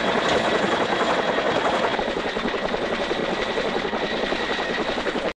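A helicopter in a French thriller film scene over Paris or Belgrade drones steadily, its rotor and engine a loud, constant roar holding level throughout before cutting off abruptly at the end.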